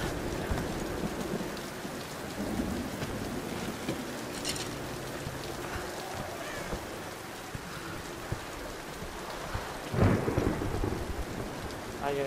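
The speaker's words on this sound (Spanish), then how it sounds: "Qué tormenta." In the 2013 Tomb Raider game, heavy rain patters steadily on surfaces while thunder rumbles and cracks, with a louder close thunderclap near the end.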